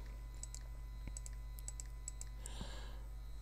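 A computer keyboard is typed on in a quiet room, a scattering of light, irregular keystroke clicks heard close but faint, with no talking.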